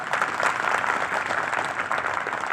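Sustained applause from an audience at a political rally, dense and steady clapping throughout with no pause, moderately loud and fairly near, with no voices over it.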